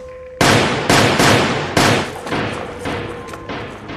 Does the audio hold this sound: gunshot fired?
yes